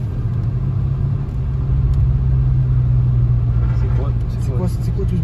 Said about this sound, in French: C'est une Mercedes normale, mais il y avait un bruit bizarre.